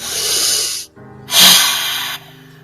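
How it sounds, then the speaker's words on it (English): Firewatch character sniffing the air: two loud, close breathy hisses of inhaled air separated by a short pause, the second longer and stronger, with no talking. "She sniffs the air."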